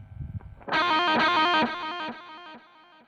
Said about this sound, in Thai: อันนี้คือเสียงดีเลย์นะครับ